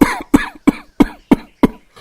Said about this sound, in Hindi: उसके ससुर के खांसने की आवाज से उसकी नींद खुल जाती है